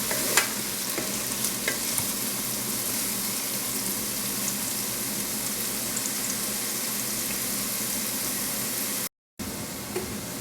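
Onions for mushroom risotto cook in a Ninja cooker with a steady, gentle sizzle and occasional soft stirring clicks, continuous and close, with a brief cut near the end.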